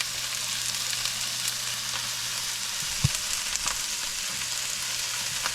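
Vegetables fry in a pan with a bay leaf, salt and pepper, giving a steady close sizzle with a few faint clicks and one soft knock partway through, and no talking.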